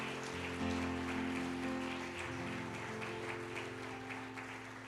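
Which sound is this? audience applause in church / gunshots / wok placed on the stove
audience applause in church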